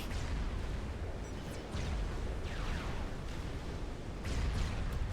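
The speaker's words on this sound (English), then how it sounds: "Exodus-class destroyer picking off one of those frigates there" Distant naval gunfire in the Supreme Commander strategy game, an Exodus-class destroyer shelling frigates: a steady low rumble of repeated cannon booms and blasts that keeps going through the whole stretch, with no voice over it.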